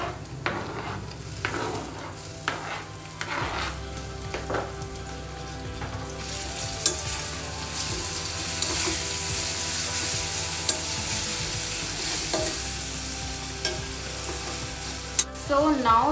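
Chopped tomatoes going into a hot frying pan for Punjabi rajma, setting off a steady, loud sizzle and frying hiss that carries on evenly, with occasional stirring clinks near the start.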